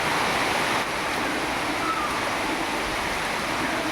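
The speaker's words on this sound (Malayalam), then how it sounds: "തെങ്ങിന്നൊക്കെ വീഴുന്ന വെള്ളം കണ്ടോ ഷവർന്ന് വീഴുന്ന പോലെയാണ് വീഴുന്നത്" A steady, dense rush of rainwater pours down from coconut trees continuously like a heavy shower, filling the whole clip without pause.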